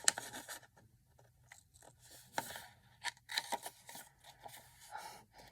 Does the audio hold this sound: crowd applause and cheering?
no